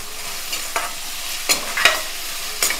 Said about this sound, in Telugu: ఓ పక్కన ఉల్లిపాయ ముక్కలు వేగుతుంటాయి